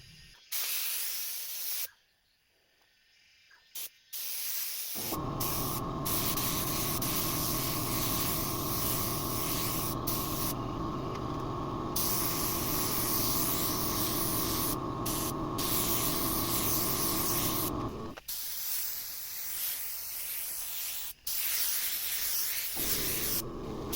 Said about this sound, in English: Now I'm going to open the fan back up to shoot the whole wing.